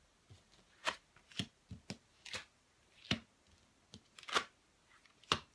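Tarot cards being shuffled, heard as a series of sharp, close riffling bursts spaced irregularly over several seconds, with quiet gaps between them and no talk.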